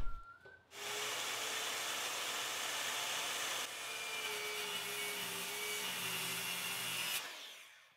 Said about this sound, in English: then I cut it to the final length with a circular saw